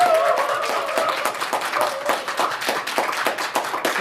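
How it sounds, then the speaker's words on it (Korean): A crowd at a Korean parliamentary candidacy announcement event in Bundang claps steadily in a close, dense burst, with a brief tonal sound under the opening claps. "다시 한번 큰 박수 부탁드리겠습니다."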